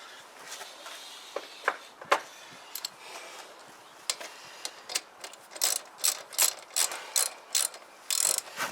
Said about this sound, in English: So let's get this caliper off.